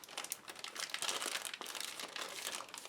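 A plastic bag crinkles around a Leatherman multi-tool as it is wrapped, giving a steady crackling rustle for about three seconds, close and alone with no talking.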